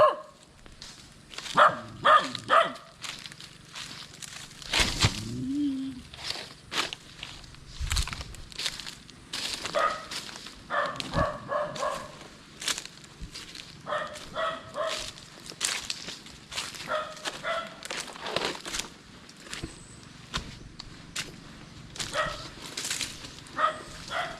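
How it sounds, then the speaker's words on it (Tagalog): Dogs bark repeatedly outdoors, with short, irregular woofs and some whimpering, mixed with crackling footsteps on dry ground. "May mga aso na dito."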